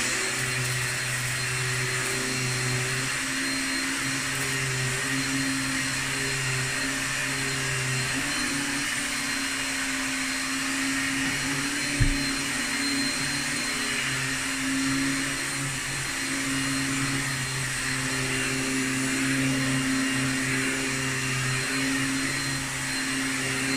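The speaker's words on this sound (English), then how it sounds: "Using the very nice vacuum combi." A Hooverlux combi vacuum cleaner runs steadily while cleaning a corner of a film studio floor, a loud continuous whirring drone with a faint tap midway and no talk.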